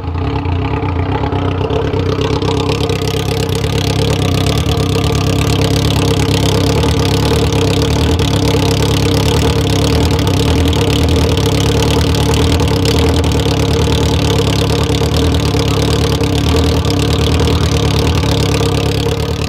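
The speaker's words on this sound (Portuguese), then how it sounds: "agora se liga com a roneteira ligada" A Honda Hornet motorcycle engine idles steadily close to the exhaust, a loud, continuous low rumble with a faint uneven pulse that holds throughout without voices.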